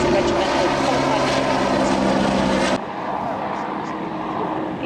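Propeller aircraft fly past at the 2004 Biggin Hill Airshow. A loud, continuous engine drone fills the air while a public-address commentator talks over it, and the drone drops sharply partway through as the planes pass.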